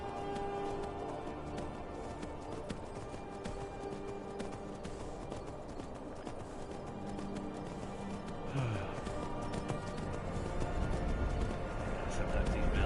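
A horse in a PS4 video game clip-clops steadily along, its hoofbeats faint and continuous beneath in-game ambience, growing slightly louder toward the end.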